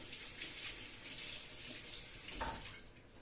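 Water from a tap runs steadily over a stainless steel Thermomix peeler blade cover for a quick rinse, a continuous close splashing that swells briefly near the end, with no talking.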